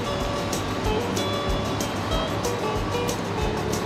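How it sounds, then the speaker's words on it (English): The Rogue River rushes freely through the old Savage Rapids Dam site, a loud, steady roar of turbulent water with faint rhythmic surges. "After 88 years, the Rogue is running free, and salmon and boats can pass unimpeded through the old dam site."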